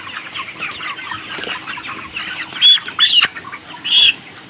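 Broiler chickens cluck and squawk nearby, with a few loud alarmed calls standing out over a busy flock.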